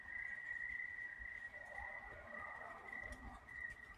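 Crickets chirp outdoors at night in a continuous faint, high, steady trill over a low background rustle.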